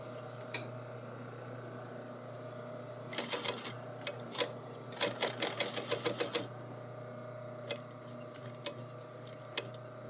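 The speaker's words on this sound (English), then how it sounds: "Hold everything down while we sew it." A sewing machine stitching a pocket runs in a fast rattling burst of several seconds, with a few isolated clicks before and after against a quiet room background.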